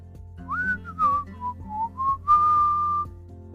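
A single person whistles a short wandering melody, clear and close, with gliding notes rising and falling over a soft steady background hum.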